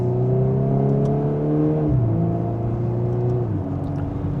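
A 2024 Volkswagen Golf R in R mode pulls through second gear under mild throttle, its engine droning steadily and rising in pitch, then dropping with a shift partway through before climbing again, continuous and close.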